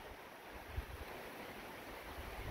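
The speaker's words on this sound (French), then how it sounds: "Où là le vent commence," Wind picking up as a Mediterranean thunderstorm arrives, a faint, steady rushing hiss with low gusty rumble and no voices.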